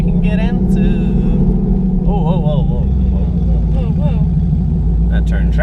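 800hp turbocharged Ford Mustang in sport mode pulling hard from inside the cabin, a loud rising engine roar with rev changes, heard under people talking.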